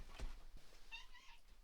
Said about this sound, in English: The cat's just walked in